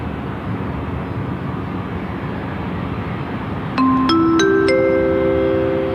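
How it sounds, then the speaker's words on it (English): A Malaysia Airlines airliner taxis out for departure at Sydney Airport, a steady, distant jet rumble that holds throughout, joined near the end by a few bright electronic chime tones. "Malaysia Airlines is taxiing out for departure"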